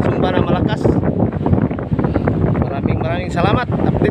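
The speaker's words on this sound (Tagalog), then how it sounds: "Medyo malakas pa ang hangin" Strong wind buffets the microphone outdoors while a repaired Vietnam kite flies, a loud continuous roar with gusty surges throughout.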